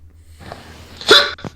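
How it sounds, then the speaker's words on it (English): Hiccups from a person, two sharp gulping catches close together near the end, the second a little softer, over a low steady background hum. "Your hiccups are getting... Like, I feel like a part of me thinks they're getting worse."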